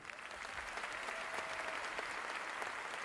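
Audience applause for the Hamazgayin Sayat Nova choir, a steady, dense wash of clapping from a large crowd that holds level for the whole stretch.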